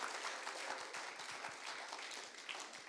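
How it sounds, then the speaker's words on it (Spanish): A church congregation claps at a Sunday evangelical service, a dense, fast rain of many hands, distant and faint in the room, steady throughout without talk. "Dale un aplauso a mi Cristo, mi hermano."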